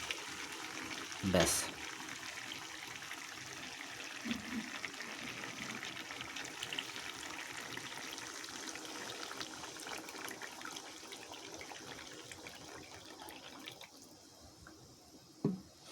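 Curry broth poured into a pan of chicken and potatoes gives a steady, soft watery trickle that runs through most of the clip, with a voice speaking over it.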